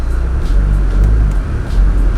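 A Subaru WRX on the road, heard from inside the car as a steady low engine and tyre rumble with constant road noise and no clear changes in pace.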